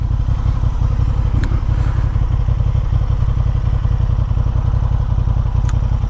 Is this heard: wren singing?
no